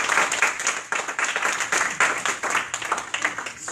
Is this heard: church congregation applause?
yes